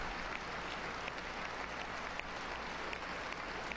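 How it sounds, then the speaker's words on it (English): A large crowd at a presidential inauguration applauds and cheers in a dense, steady roar that holds at an even level for the whole stretch, with no distinct voices standing out. "And they cheer."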